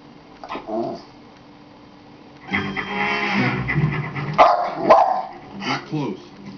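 A dog in the Garfield movie gives a few short barks and whimpers amid spoken movie dialogue, the yelps brief and close, standing out near the end.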